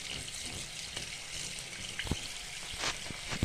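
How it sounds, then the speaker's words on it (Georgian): Tap water runs steadily while something sticky is washed by hand in a sink, a soft continuous trickle and splash with a couple of brief louder splashes, no talking. "ჩავთოთ წყალი და უნდა ჯერ წყლით კარგად"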